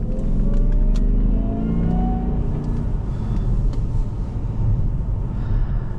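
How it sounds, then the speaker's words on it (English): A 2005 Jaguar XJR with a supercharged engine pulls hard under acceleration, a deep rumbling roar with a rising supercharger whine, heard steadily from inside the car with no talking. "And a supercharger whine that competes with the Terminator Cobra."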